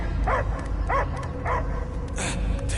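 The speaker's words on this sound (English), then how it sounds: "I hear only barking." In the Guardians of the Galaxy video game, a dog gives four evenly spaced barks over a low rumbling background, the last one sharper and more strained.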